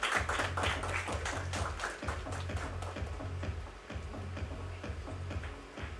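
An audience claps for author Laxmi Murdeshwar Puri at a book event, giving steady, fairly soft applause that carries on throughout without any talk over it.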